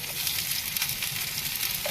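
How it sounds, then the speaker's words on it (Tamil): Fish sizzling and frying steadily on a hot dosa griddle, a close, continuous crackling hiss with no talk. "ரைஸ் மீன் போட்டாச்சு. தோசைக்கல்ல சுட போட்டாச்சு."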